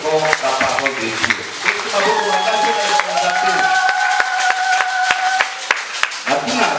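A church congregation claps in a lively rhythmic burst of applause, with sharp, regular hand claps over a crowd, sustained tones and voices.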